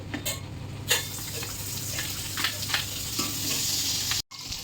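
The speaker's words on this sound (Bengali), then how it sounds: "এই যে এখানে রয়েছে লঙ্কা কাটা আর রসুন কুচি, এটা দিয়ে দিচ্ছি আমি তেলের পরে" Chopped chilli and minced garlic sizzling in hot oil in a pan, a steady close crackling fry with a few utensil clinks and stirring scrapes, and a brief cut near the end.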